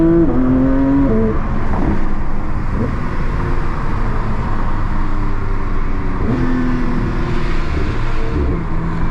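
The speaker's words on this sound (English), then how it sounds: "Okay people, let's give it full throttle. Wow, it sounds absolutely amazing." A Porsche 911 GT3 (992) engine roars at full throttle in track mode, revving up in loud rising sweeps, easing off, then surging again close by.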